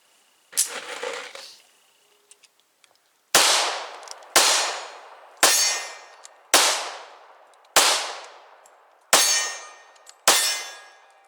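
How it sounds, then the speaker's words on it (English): Colt 1911 pistol fired at an outdoor shooting range: seven sharp, loud shots at roughly even intervals, each with a ringing decay, after an earlier muffled clank. "did you want to shoot the 220 first or 1911? Shoot the 1911 first."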